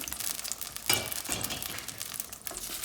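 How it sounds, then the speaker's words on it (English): Onion, ginger, garlic and tomato puree sizzles loudly in hot oil, a steady crackling fry with a sharp burst as it hits the pan, continuing unbroken with no talk. "oil has heated, I'm going to add the puree that I made with the onions, ginger, garlic, tomatoes"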